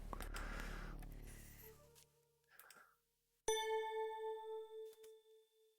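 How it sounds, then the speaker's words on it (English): Synthesized bell chimes in the style of a grandfather clock, from the 1992 DOS game The Legend of Kyrandia. A decaying clang fades into a brief pause, then a bright, sustained ding rings out and pulses in slow, fading waves. "So it's meant to sound like a grandfather clock in a way"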